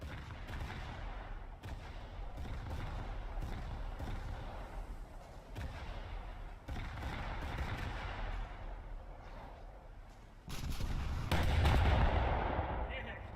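Naval gunfire in a War Thunder battle: repeated heavy booming shots and thuds over a constant rumbling engine and sea background, with a louder, closer burst near the end.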